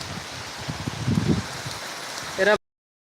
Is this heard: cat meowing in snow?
no